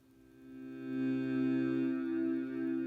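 A modular synthesizer patch in C major with the reverb turned up and the delay down, producing a sustained, harmonically rich drone that swells in over the first second and then holds steady.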